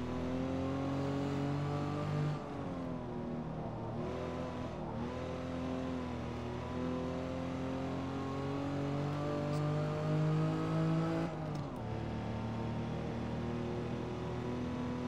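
An Aston Martin DB4 GT's 3.7-litre inline-six engine revs and accelerates steadily, its rising harmonic drone dipping briefly at gear changes before climbing again, close and fairly loud.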